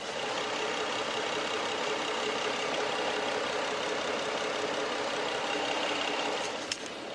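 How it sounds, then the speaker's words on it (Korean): A smooth, quiet inline-six petrol car engine idles steadily with an even hum and no other sounds until a small click near the end. "실키6 엔진 아 너무 조용한데 바로 엔진 소리 한번 들려드릴게요."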